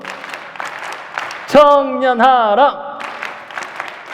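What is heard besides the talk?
congregation clapping rhythmic cheer applause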